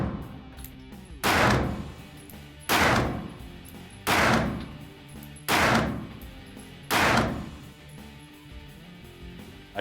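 Five loud pistol shots from a Springfield Hellcat RDP fitted with a compensator, fired at a steady pace roughly every second and a half, each a sharp crack with a short ringing tail over a quiet outdoor background.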